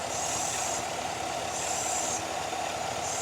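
Steady, loud hiss from an oil catch can on a 2019-2021 Chevrolet Silverado truck engine, continuous with no break and no talking.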